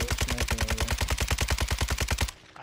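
Rapid automatic gunfire from Call of Duty Warzone 2, a loud, evenly spaced burst of roughly twenty shots lasting over two seconds before cutting off.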